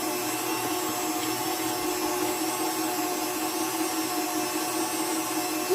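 An electric stand mixer beats butter, sugar and vanilla for a French silk pie, producing a steady, loud, unbroken mechanical whir with a constant tonal hum and no voices.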